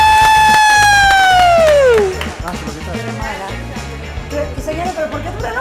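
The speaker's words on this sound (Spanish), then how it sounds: "Pónganle un fuerte aplauso." Studio audience on a TV entertainment show breaks into applause and cheering right after a loud falling musical sound effect, with claps and shouts continuing at a lively level.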